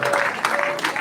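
Audience clapping fills a church service, a steady spatter of hands with a murmur of voices mixed in, fairly loud throughout.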